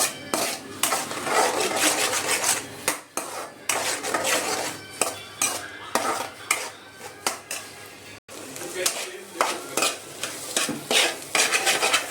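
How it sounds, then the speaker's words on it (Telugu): Three eggs fry in oil with salt and chili in a pan, with steady sizzling and repeated scraping and stirring clatter at close range. "ఈలోపు మనం పక్కన బాండీ పెట్టుకొని ఆయిల్ వేసి 3 ఎగ్స్, ఇందులో కొంచెం సాల్ట్, కొంచెం కారం"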